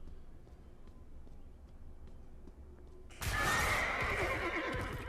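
A horse in the action game Diablo Immortal, ridden by a Crusader, lets out a loud, close whinny that starts abruptly after a few seconds of quiet and carries on with hoof clatter underneath.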